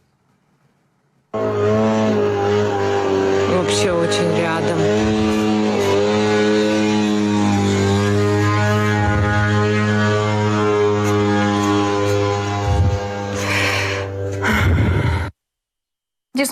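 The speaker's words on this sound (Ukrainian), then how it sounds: "можемо послухати, як звучали ці дрони над Феодосією" A steady, droning motor buzz like a moped engine from attack drones over Feodosia, similar to Shahed drones, fills the air for over ten seconds, with a person briefly speaking over it.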